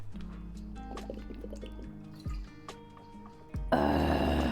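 Water drips and trickles into a container in a quiet room, with small plinks and a steady faint hum, ending in a louder rush of filling liquid.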